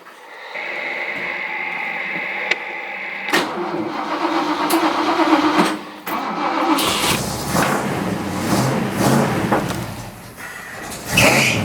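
An old car engine cold-starting after months in a garage: a few quiet clicks, then cranking bursts, and finally the engine catching and running loud and rough with uneven revving, close up.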